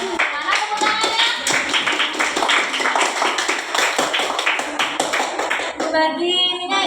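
A class of children claps hands in a sustained, dense round of loud, rapid claps lasting several seconds, with voices mixed in and a voice rising near the end.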